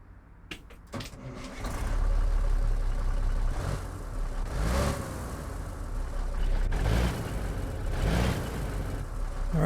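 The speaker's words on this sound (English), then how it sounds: "See how this Cummins 855 sounds in this truck." Cummins 855 engine in a Marmon 110p truck in American Truck Simulator, a few clicks then a low diesel rumble that swells and settles into a steady idle and gentle revving, moderately quiet.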